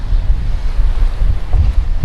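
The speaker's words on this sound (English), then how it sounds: "Got some waves coming in." Waves rolling in against a dock on West Lake Okoboji, a clear natural lake: a loud, low, wind-buffeted wash of water, continuous and close with heavy microphone wind rumble and no talk.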